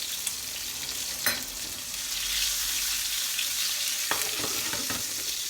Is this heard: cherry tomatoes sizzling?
yes